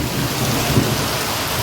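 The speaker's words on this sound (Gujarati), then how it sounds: "ધમ ધોકાર પડે છે અને હજી ચાલુ જ છે જો કડાકા બડાકા સાથે" Heavy village rainstorm with thunder, a loud dense downpour roaring continuously with a low rumble swelling underneath, no voices.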